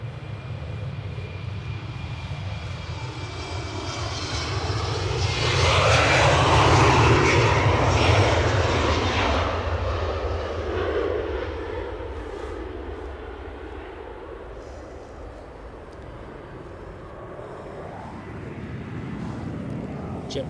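Airliners at Edinburgh Airport roar continuously in a broad engine rumble that swells to a peak mid-way and then eases back, heard from a plane-spotting spot with no one talking.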